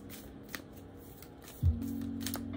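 Sailor Moon tarot cards being shuffled by hand, a soft papery riffle with light taps and one sharper slap partway through, close and quiet with a steady low hum underneath and no speech.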